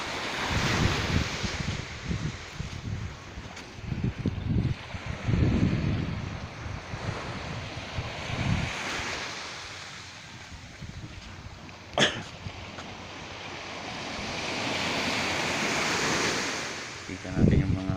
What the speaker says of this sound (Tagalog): Ang tindi ng alon pala, no?